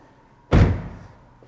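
A single solid slam as the conventional, non-dihedral door of a fire-damaged Porsche 918 Spyder swings shut, a loud close thud that fades quickly into quiet.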